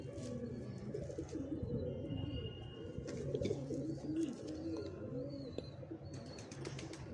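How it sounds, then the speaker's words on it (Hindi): Pigeons coo steadily in low, throaty rolling calls, several birds close by with occasional wing flaps and faint chirps throughout. "ये कबूतरी है पूरी, कबरे टाइप की, चिन्नी टाइप की कबूतरी है"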